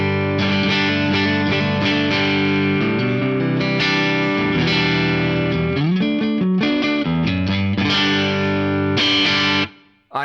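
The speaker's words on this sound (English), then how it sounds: "The tapped neck pickup on my PRS DGT sounds like this." PRS DGT electric guitar on its tapped neck pickup, run through a compressor into a Band Commander amp model with an edge-of-breakup tone, played continuously in chords and riffs, close and loud.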